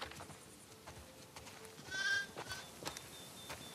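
Quiet scattered sheep bleats in the video game The Last of Us Part II, one clearer high bleat near the middle, over faint clicks and soft background noise.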